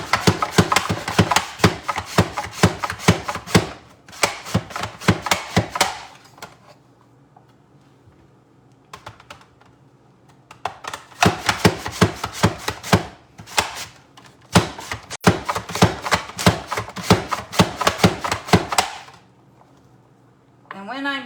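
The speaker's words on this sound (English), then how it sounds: "when I'm done chopping up my potatoes for the hash browns" A knife chops potatoes for hash browns on a cutting board in quick, crisp bursts of rapid taps, several runs separated by short quiet pauses, close and loud.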